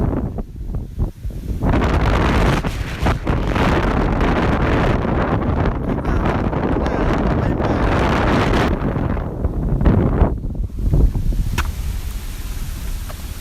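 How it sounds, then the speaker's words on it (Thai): Strong wind roars across the microphone on an exposed stretch of coast where small boats cannot cross, loud and continuous with gusty surges. Fainter surf or waves sound underneath throughout. "ข้างนอกลมแรงมากเลย"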